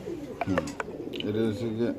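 Soft pigeon coos repeat in low, rolling phrases close by, mixed with brief chirps and rustling.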